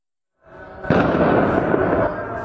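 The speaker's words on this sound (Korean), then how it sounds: "예멘 수도 사나에서 검은 연기가 치솟고 강력한 폭발이 일어납니다" A heavy explosion from a US airstrike in Sanaa, Yemen, erupts after a brief silence, followed by a loud, sustained rumbling roar that slowly tapers off.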